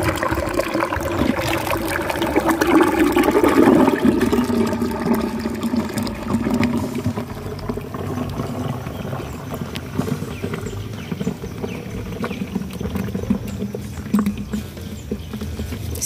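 Steady watery trickle and sloshing of cow dung mixed with water draining slowly into a biogas digester reactor, continuous with some gurgling, no talk.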